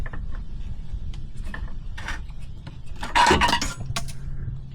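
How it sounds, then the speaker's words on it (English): A screwdriver pries a differential breather hose out of its clamps on a Jeep Wrangler Rubicon, giving close, scattered metallic clicks and scrapes with a brief louder rattle near the end. "I'm gonna use a screwdriver."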